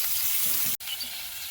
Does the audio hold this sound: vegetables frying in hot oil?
yes